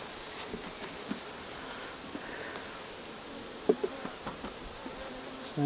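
Honeybees hum around an open hive in a soft, continuous drone, with scattered faint clicks and handling taps from the beekeeper working nearby.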